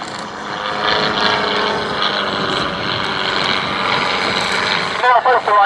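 A propeller aircraft at an airshow drones steadily overhead, a continuous engine hum with a buzzy pitch that shifts slightly as it passes.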